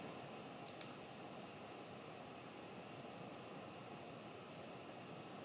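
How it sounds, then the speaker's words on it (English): Two quick close computer mouse clicks in rapid succession near the start, then only a steady hiss of background noise. "So I'm going to click OK."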